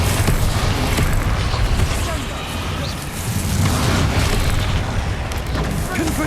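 Bombarda explosion spells going off in Hogwarts Legacy, loud and sustained, with deep booming blasts rolling continuously over a dense, noisy game soundscape for the full stretch.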